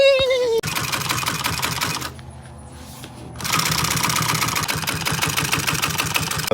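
A sewing machine stitches boat seat upholstery for a tritoon pontoon in a steady, loud, rapid mechanical rhythm that briefly slows and quiets before running at full speed again.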